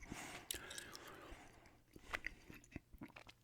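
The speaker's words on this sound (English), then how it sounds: "I'm doing a good old-fashioned gum chewing ramble here today." Gum being chewed close to the mic in a quiet room, with soft wet smacks and clicks repeating irregularly, brief whispering mixed in, all at a faint, intimate level.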